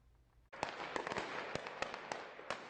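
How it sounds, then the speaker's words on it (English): Bursts of gunfire on the streets of Kazakhstan's largest city during political unrest: sharp cracks and pops in rapid, uneven succession after a sudden onset, echoing over a continuous noisy roar outdoors. "Bursts of gunfire on the streets of Kazakhstan's largest city"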